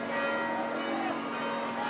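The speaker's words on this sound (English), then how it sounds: "This is a chance for Brown as the bells start to sound" Bell sounding at an AFL football match, a steady ringing tone held for two seconds over the crowd's roar and commentary.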